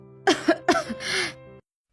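A few harsh, close coughs in quick succession, followed by a short throaty exhale, then silence.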